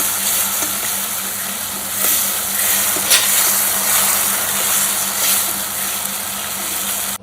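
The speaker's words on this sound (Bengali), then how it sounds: "কষায় তেল ছাড়লে পটলগুলোকে দিয়ে এই পটলগুলো দেখো ভাজা হয়ে গেছে" Pointed gourd (potol) sizzling and frying in hot oil in a kadai, a continuous crackling hiss with small spatters and a low steady hum beneath, no talking.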